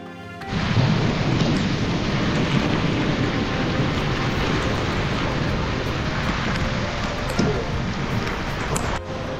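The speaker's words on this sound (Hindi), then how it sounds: "झमाझम बारिश हो रही है बहुत तेज" A heavy monsoon downpour pounds Urgam village in the Garhwal hills on the way to Kalpeshwar Mahadev. The steady, dense roar of rain runs unbroken and loud for the whole stretch, with no voices.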